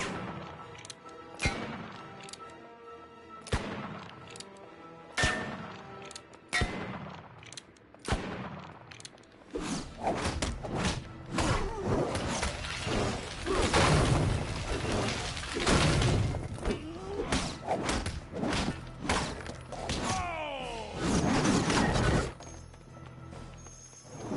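Rapid bursts of gunfire in the Disney Infinity video game, Under Construction Zombi St. George's level, start as sharp separate shots and build into dense, loud volleys with crashing impacts. There is no talk.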